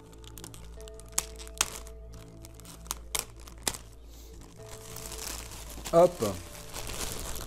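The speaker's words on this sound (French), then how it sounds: "Alors on enlève tous ces plastiques" Plastic packaging crinkles and tears off a one-piece anime figurine from an Ichiban Kuji prize; short crisp crackles and a louder rustling burst, close up, with a brief spoken word.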